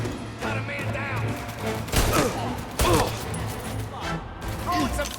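Gunfire in the Mafia video game, a loud dense volley with sharp bursts around the middle, amid continuous battle noise and a voice speaking over it.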